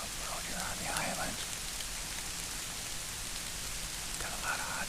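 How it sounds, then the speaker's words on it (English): Steady rain falls on an island in the northern Wisconsin big woods during a public-land whitetail bowhunt, a dense, even patter close by, with faint voices murmuring underneath at moments. "It's raining."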